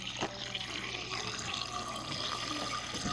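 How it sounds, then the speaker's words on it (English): Running water in a video game, like a tap filling a sink, flows steadily with faint drips and splashes throughout. "sound of water"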